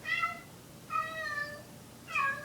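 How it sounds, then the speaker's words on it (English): A cat meows loudly three times from another room, each call long and drawn out with wavering pitch, spaced about a second apart over a low background hiss. "My cat is summoning the devil in there."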